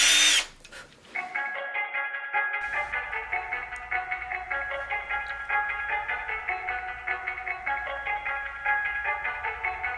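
A power drill runs steadily for about nine seconds while kitchen floating shelves are being hung, a sustained whining motor tone close to the microphone following a brief rustle at the start.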